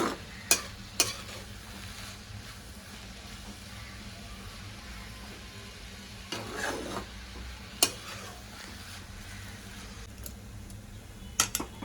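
Grated raw mango stirred in ghee in a pan, a faint, low sizzle with occasional sharp clinks and scrapes of a spoon against the vessel, no speech.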